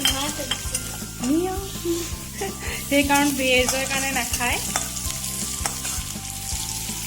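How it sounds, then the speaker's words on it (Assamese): Onions and garlic sizzle loudly in a pan while being stirred, with a steady scraping rhythm; a person speaks over the frying. "এয়া আমি অলপ লৰাই দিছোঁ পিঁয়াজটো"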